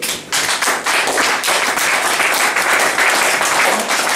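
A church congregation claps together in loud, sustained applause, a dense, continuous patter of many hands filling the room from start to finish.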